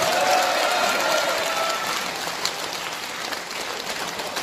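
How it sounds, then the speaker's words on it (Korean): Applause from an audience at the close of a political seminar: a dense, steady wash of clapping that eases slightly toward the end. "대한애국당 조원진 대표님께 큰 박수 부탁드리겠습니다"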